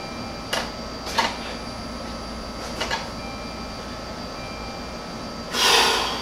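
A 2006 Saturn Ion with a dry fuel rail as the key is cycled: a few faint clicks and short whirring buzzes from the fuel pump priming, then a louder sustained whir near the end over steady background hum.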